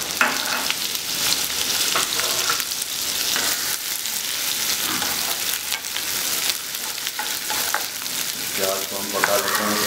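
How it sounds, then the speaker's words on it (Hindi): Cumin seeds and onion sizzle loudly in hot oil in a pan while making a yogurt gram-flour dish, a dense continuous crackle with scraping stir strokes throughout, close and prominent. "ये जीरा और जीरा को पका लेते हैं पहले। और इसमें डालेंगे प्याज"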